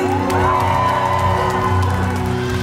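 A festival crowd at a Batak music tribute concert cheers and applauds in a dense, continuous wash of clapping and whoops, with music droning underneath.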